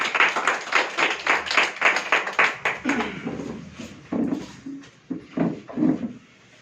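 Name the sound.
audience clapping to welcome a speaker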